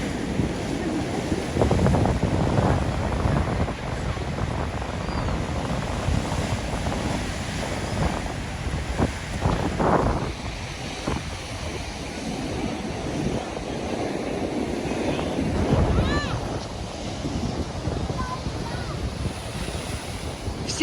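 Stormy Black Sea surf crashes steadily onto the shore at Langeron beach in Odesa, a loud continuous roar of breaking waves with heavy wind buffeting the microphone and faint voices of people nearby.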